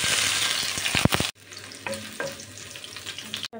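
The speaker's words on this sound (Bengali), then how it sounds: "দিয়ে দিচ্ছি রসুন কুচি" Chopped garlic fries in olive oil in a pan, a loud steady sizzle with stirring clatter that cuts off abruptly, then a quieter sizzle with a few spoon taps before a second sharp cut.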